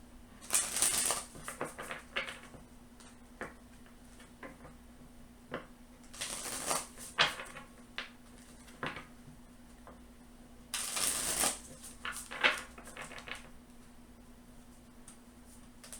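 Oracle cards from a Messenger Oracle deck being shuffled in bursts, soft papery riffles and slaps returning several times with quiet pauses between, close and alone with no talking.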